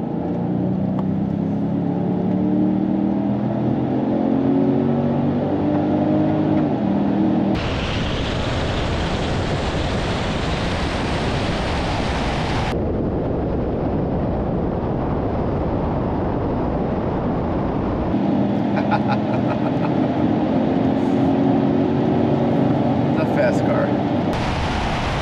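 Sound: Genesis G70 and BMW 330i drag racing

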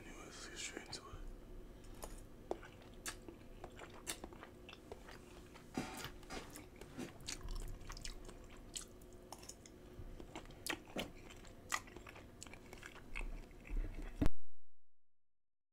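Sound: eating spaghetti and meatballs, ASMR chewing

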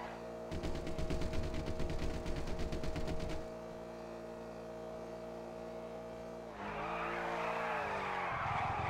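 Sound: car driving and skidding in GTA RP video game

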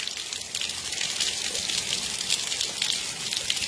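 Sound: rain falling in Orós, Ceará

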